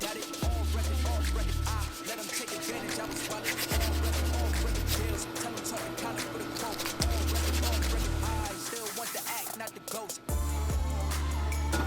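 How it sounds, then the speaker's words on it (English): A wooden handle on a century-old axe is hand sanded with 220 grit sandpaper, giving steady rhythmic rubbing strokes in repeated bursts, close up and fairly quiet, with no talk. "I'm just going to be hand sanding it with 220 grit"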